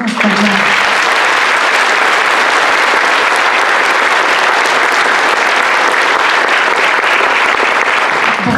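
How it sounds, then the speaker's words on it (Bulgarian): Sustained, dense applause from an audience honouring the teachers of a Bulgarian secondary school at a school ceremony, loud and steady for the full stretch with no voices over it. "Аплодисменти, моля, за учителите"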